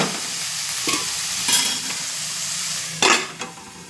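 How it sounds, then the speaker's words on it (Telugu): Mixed vegetables and sweet corn sizzle in a pan as a spatula stirs them, with a few sharp scraping strokes over a steady fry, close up and with no talking. "దీన్ని ఒక్కసారి మళ్ళీ కలిపి కొంచెం మూత పెట్టేసుకుందాం"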